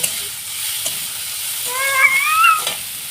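Capsicum and onion frying together in a pan give off a steady, close sizzle, and a short cat meow rises over it about two-thirds of the way through.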